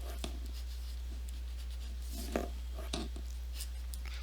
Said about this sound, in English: So we're going to write down our formula for annuity.